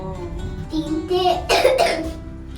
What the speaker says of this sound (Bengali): কাশিও হয়েছে বোনটার।